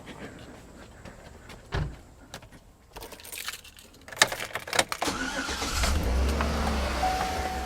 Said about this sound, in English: Let's go ahead and fire this engine up